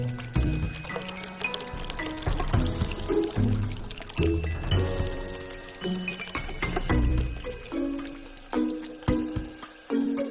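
Water spills and pours from a broken clay pot in uneven gushes and splashes, close and fairly loud, with dripping and sloshing throughout and no talk.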